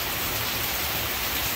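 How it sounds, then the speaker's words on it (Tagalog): Light rain falling steadily, a dense, even hiss of drops on surfaces, close and continuous with no voices. "It's only a little raining."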